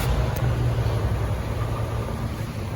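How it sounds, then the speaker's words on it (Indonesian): A low, steady engine rumble from a Peugeot 408 exhaust idles continuously, loud and close, with no voices. "sama knalpot ternyata ada bunyi knalpot"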